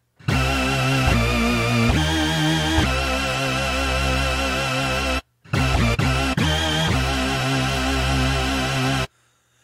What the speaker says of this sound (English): it's this really fat super saw with some slight detuning and a bit of modulation on the pitch.